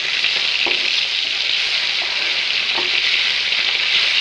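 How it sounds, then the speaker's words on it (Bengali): Katla fish pieces frying in a pan with a loud, steady hiss of hot oil close by, broken by a few soft clicks and scrapes as the pieces are turned, no voices. "মাছগুলো ভেজে নিব তারপর লাল লাল করে। এই যে বন্ধুরা, মাছগুলো এখন উল্টাই দিব আমি।"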